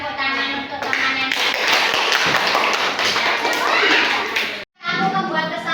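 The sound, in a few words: children clapping for a classmate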